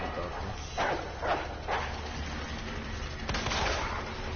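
In Resident Evil 2, a zombie dog snarls and barks in three quick bursts, then a single sharp gunshot cracks out and more growling follows, fairly muffled under a low background hum.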